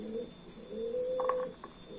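Pigeon cooing close by, a couple of soft low rolling coos over a faint steady hum, with no one talking.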